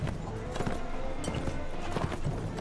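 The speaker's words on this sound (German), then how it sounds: "Oh, diese Pferde hier überall in der Gegend" Horse hooves clip-clopping in the medieval combat game Mount and Blade Warband, a steady rhythm of close, fairly loud hoofbeats over a busy, dense game soundscape.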